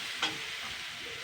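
Boiled potatoes frying in a pan with spices and tomato ketchup, a continuous close sizzle with a brief stirring clink near the start, no voices.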